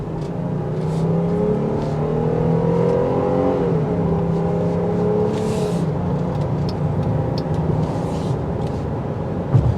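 A 2023 Jeep Grand Cherokee L Summit accelerates on the road, its engine note rising and then steadying into a continuous hum beneath road and wind noise, with no talking.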